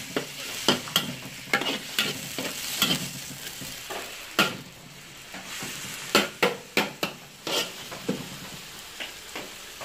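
Chicken pieces and lemongrass are stirred in a hot pan. A steady sizzle of frying runs throughout, broken by repeated sharp scrapes and knocks of a utensil against the pan, close and with no talk.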